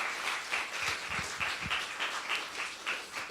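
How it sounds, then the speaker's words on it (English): Soft applause from an audience at a presentation, honoring an album's producer and engineers, heard fairly distant and low in level, with a steady pattering wash of many hands. "Please, a round of applause for all of them."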